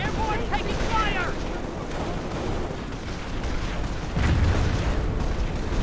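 Gunfire and explosions rumble through a Company of Heroes battle, with dense overlapping shots and blasts under game voice chatter, swelling louder near the end.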